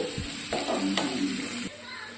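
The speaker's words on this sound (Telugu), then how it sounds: "ఇందులోకి పావు టీ స్పూన్ ఆవాలు, పావు టీ స్పూన్ జీలకర్ర వేసుకొని ఇదంతా ఇలా స్పూన్తో బాగా కలుపుకోవాలి." Mustard seeds and cumin fry with garlic in hot oil for a Telugu chickpea tempering, a steady close sizzle broken by a few sharp scrapes and taps of a spoon stirring the pan.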